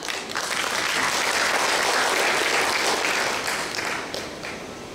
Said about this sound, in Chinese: 所以我希望大家也掌声自己吧